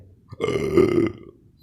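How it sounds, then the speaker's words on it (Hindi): A voice fakes a single loud burp, close and drawn out for about a second, with no other sound around it. "नवाब साहब के पेट से एक नकली से डकार की आवाज़ सुनाई देती है"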